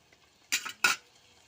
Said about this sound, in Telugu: కొంచెం సేపు కలిపి దీన్ని కొంచెం ఉడకనియాల